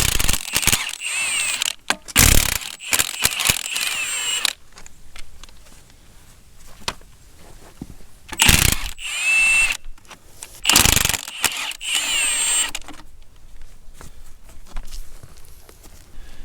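A ratchet wrench works loose the base bolts on a Caterpillar RD-6 crawler's track frame, with bursts of rapid metallic clicking and clattering that alternate with quieter pauses of handling noise, close and fairly loud.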